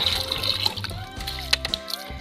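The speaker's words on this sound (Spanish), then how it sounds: "vamos a seguir colocando el agua hasta que se llene." Water poured into a plastic-lined duck pond, a close splashing and gurgling flow with irregular sloshes and a few sharper splashes.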